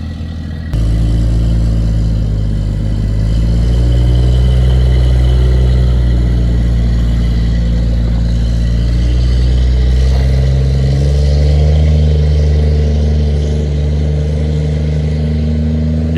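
Armored MRAP four-wheel-drive vehicle engine running loud and close, a steady low rumble that swells as it revs, continuous throughout with no talk.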